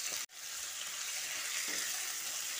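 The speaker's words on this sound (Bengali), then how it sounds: "পটল আর আলু একসঙ্গে দিয়ে ভেজে নিচ্ছি" Potato and pointed gourd pieces fry in a pan with salt and turmeric, giving a steady, close hiss of sizzling oil that drops out for an instant near the start and then continues evenly.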